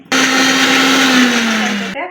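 Mixer grinder whirring through garlic, ginger and green chillies, one loud steady motor burst of about two seconds that stops abruptly.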